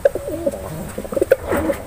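Pigeons cooing softly in a loft with a trapdoor, several short soft coos in quick succession amid faint background noise.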